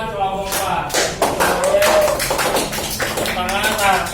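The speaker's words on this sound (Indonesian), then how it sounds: "tepuk tangan buat kelompok 4" Students in a classroom clapping for a presenting group, a loose scatter of hand claps with some uneven bursts, heard under a voice speaking across the clip.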